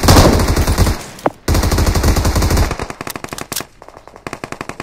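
Rapid automatic gunfire from the battle royale game BGMI, loud bursts of repeated shots with a brief gap, then sparser single cracks trailing off.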